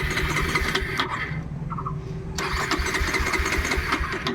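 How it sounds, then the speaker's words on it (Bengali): A 2024 Bajaj Pulsar 220F motorcycle engine cranks with a rapid starter chatter, stops briefly, then cranks again without catching, loud and close. "আবার স্টার্ট করে শোনাবো গাড়ি"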